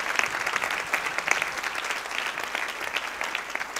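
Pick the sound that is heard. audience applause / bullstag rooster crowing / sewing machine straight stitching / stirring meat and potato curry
audience applause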